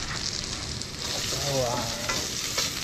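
Garlic frying in a pan, a close steady sizzle and crackle with a brief voice speaking under it midway.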